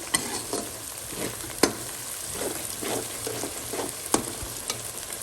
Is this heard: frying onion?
yes